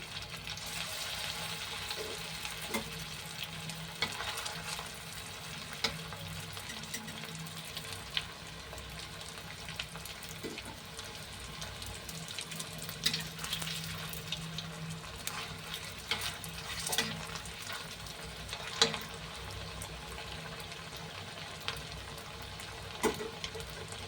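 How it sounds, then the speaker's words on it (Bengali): Steady, soft sizzling of food frying in oil, a continuous crackle with occasional faint clinks, no voices. "তো এই গরম তেলের মধ্যে দিয়ে দিলাম।"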